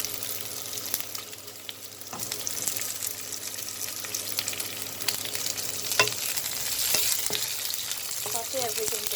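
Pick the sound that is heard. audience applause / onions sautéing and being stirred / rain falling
onions sautéing and being stirred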